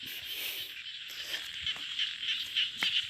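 Small rice-field frogs croak in a dense, steady chorus from a water-filled paddy, with sharper individual calls popping out close by over the continuous high-pitched din, and no talking.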